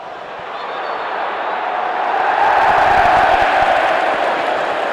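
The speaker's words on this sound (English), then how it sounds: "Big cheer for the referee's decision to award Sheffield United this free kick" A football crowd at a Sheffield United match against Burnley swells into a loud, broad roar of cheering, rising over a few seconds and holding strong.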